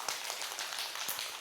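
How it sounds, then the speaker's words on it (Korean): An audience at a parenting talk gives a short burst of clapping, a dense hiss of many hands close by that lasts barely more than a second. "박수 한번 보내주세요"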